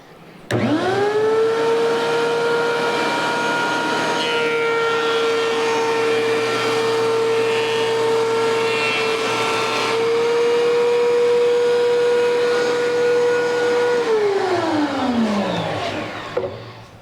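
A DeWalt 735 thickness planer feeds a 1x2 board through for a light pass, its loud steady whine holding for about thirteen seconds before winding down in pitch as the cutterhead slows. No voices.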